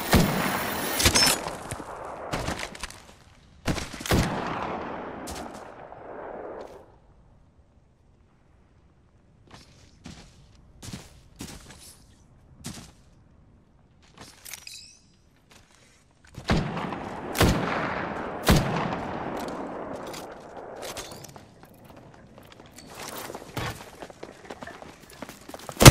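Gunfire in an Apex Legends match comes in bursts of sharp cracking shots, clustered near the start and again later, separated by quieter stretches with a few isolated shots and movement sounds.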